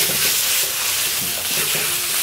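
Fattened beef being stir-fried in a large clay pot for nam ngiao sizzles loudly and steadily, with a broad hiss and occasional scraping of stirring, close up and without talk.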